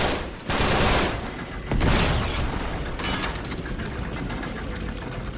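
Gunfire in Uncharted 3 gameplay: dense bursts of distant shooting blending into a continuous rumbling wash, with a few louder swells, and no voices.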